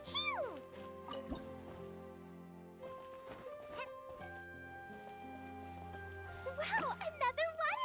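Genshin Impact, game scene: a water droplet creature squeezes out of a wall with soft, cartoonish drip and plop effects, tinkling tones and a squeaky, chirping creature voice that swells near the end.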